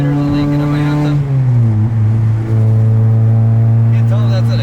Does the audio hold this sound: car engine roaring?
yes